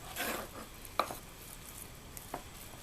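Pork butt being cut up for canning, with a few sharp knife-on-board chops and faint scraping, close and quiet, spaced irregularly with pauses between strokes.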